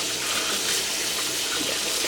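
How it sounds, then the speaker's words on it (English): Tap water runs steadily while sea moss is rinsed: an even, close hiss-and-splash wash lasting about two seconds, with no talking. "So then you're just gonna rinse it off."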